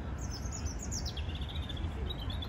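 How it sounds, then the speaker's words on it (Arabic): Small birds chirp and tweet in quick high bursts over a steady low rumble of rain on a London street, fairly faint and distant. "سامعين صوت العصافير؟"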